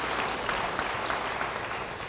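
A church congregation claps during a sermon, a dense, even patter of many hands heard up close for a couple of seconds with no voices over it.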